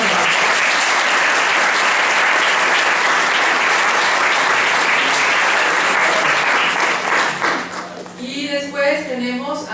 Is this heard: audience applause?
yes